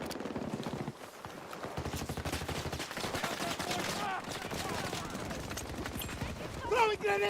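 Gunfire in a Battlefield 6 battle royale match, rapid bursts of automatic fire crackling steadily at moderate distance, mixed with game effects and players talking over the shooting.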